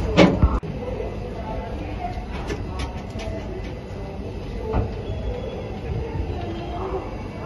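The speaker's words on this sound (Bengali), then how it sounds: "এই যে খড়গপুরে ঢুকছে স্টেশনে ট্রেনটা" A train rumbles steadily on the tracks pulling into Kharagpur station, with clanks and rattles of the carriages, a sharp thud near the start, faint voices in the background.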